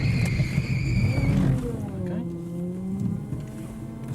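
A driving-school skid car, rigged with small adjustable wheels on a frame, slides out of control, its engine roaring and tyres squealing briefly before settling, while voices talk over it.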